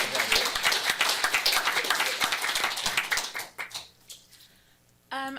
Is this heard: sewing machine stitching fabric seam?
no